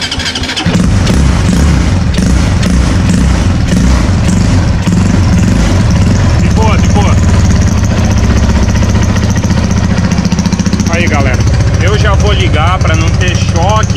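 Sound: Titan 150 water-cooled motorcycle engine running in mini boat

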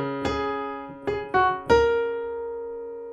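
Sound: piano playing a song's chorus part two on black keys

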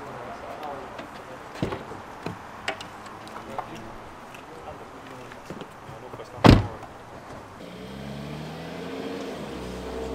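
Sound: car driving off

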